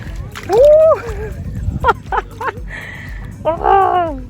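Water splashes as someone wades into cool sea water off Mauritius: a few close splashes and sloshes, mixed with voiced exclamations.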